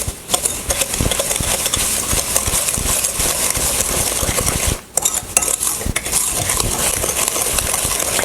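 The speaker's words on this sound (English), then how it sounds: "Now I'm going to use a whisk to give that a good mix, get those eggs really mixed in there well." Eggs and brown sugar whisked by hand in a bowl for cookie dough, a continuous fast, rattling clatter of the whisk against the bowl with one brief pause midway.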